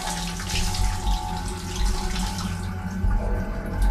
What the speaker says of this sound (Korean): 확실히 샤워 소리도 아직 지속되고 있다